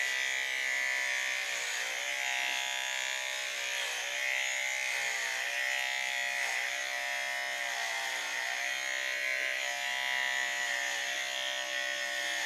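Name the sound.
electric hair trimmer buzzing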